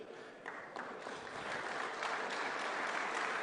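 Applause rises at an awards ceremony for the SCORE Baja 1000 off-road race, building from scattered claps into fuller, steady clapping from the room.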